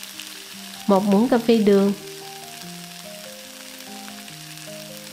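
Tofu stir-fries in a pan with seasoning for a vegetarian braised dish, a soft continuous sizzle running under a woman's brief spoken line near the start, then carrying on faintly alone.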